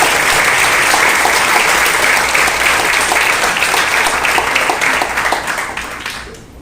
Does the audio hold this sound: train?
no